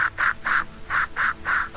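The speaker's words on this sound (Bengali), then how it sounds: "এই হাঁসগুলো চুপ করো।" Cartoon ducks quacking in a bright, regular series of about six evenly spaced quacks, close and clear, with no voices.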